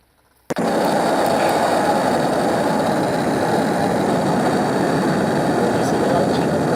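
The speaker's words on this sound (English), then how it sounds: "This is the launching of the rocket." A sudden roar kicks in and holds steady, a loud, dense rumbling exhaust blast that continues without letup after a brief silence.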